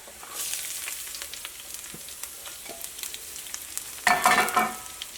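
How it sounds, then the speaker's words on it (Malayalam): Ginger, garlic and green chillies sautéing in a hot pan for an egg roast, giving a steady close sizzle with scattered crackles that surges into a louder, denser hiss near the end as the ingredients hit the oil; no talking. "ഇനി ഇതിലേക്ക് നമുക്ക് ഇഞ്ചിയും വെളുത്തുള്ളിയും പച്ചമുളകും ചേർക്കാം."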